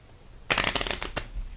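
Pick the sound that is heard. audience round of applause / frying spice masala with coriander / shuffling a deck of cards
shuffling a deck of cards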